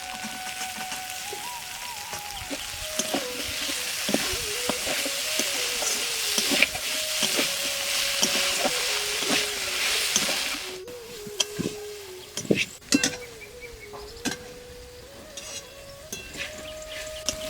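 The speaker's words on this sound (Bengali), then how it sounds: "এই সবজির সঙ্গে মটরশুঁটি কাটা কষিয়ে নেব।" Mixed vegetables with chopped peas fry in oil in a pan, a continuous close sizzle broken by repeated scraping and clanking strokes of a spoon stirring the pan.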